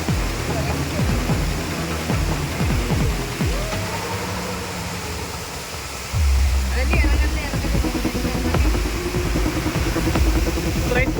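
Loud, steady roar of rain-swollen floodwater rushing across a road on the Wayanad ghat, never letting up, with a low rumbling churn underneath that grows heavier partway through.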